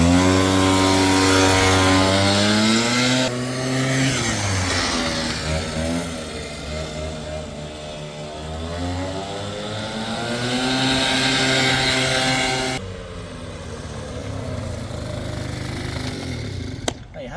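A Piaggio Sport City 150 scooter engine, repaired after seizing, revs and drones close by, pitch rising and falling as it rides around a car park, then idles down near the end.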